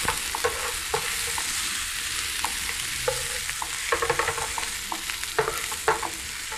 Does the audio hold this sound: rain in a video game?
no